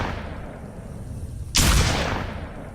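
A single loud, close gunshot booms out in the video game Rust as a roof is fired upon, striking sharply after a stretch of steady background hiss and trailing off slowly.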